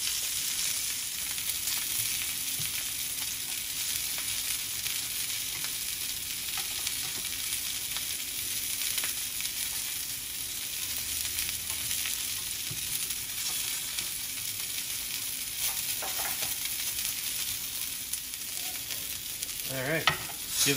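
A London broil sears in a pan over medium-high heat, filling the whole stretch with a loud, unbroken hiss and crackle, with a few clatters near the end.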